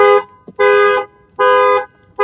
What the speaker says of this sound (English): You will see the car horn will start honking.